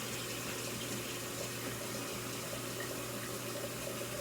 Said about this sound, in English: I'm gonna add about half a thing of water, cold water, to this pan